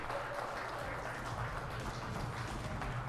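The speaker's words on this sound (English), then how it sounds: "A big round of applause, everyone" Steady, dense applause from an audience at an awards ceremony, honouring a lifetime achievement award for music. The clapping is continuous, broad and fairly distant, with no talk.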